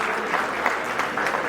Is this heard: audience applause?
yes